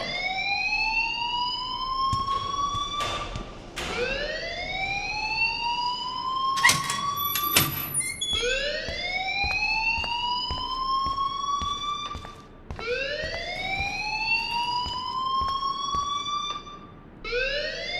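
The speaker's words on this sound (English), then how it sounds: "please turn off that alarm since that's your job" In the video game Life is Strange, a fire alarm wails in loud, repeating rising whoops, one about every two seconds, with scattered clicks and clatters between them and no talking.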